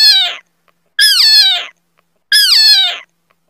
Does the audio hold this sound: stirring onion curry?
no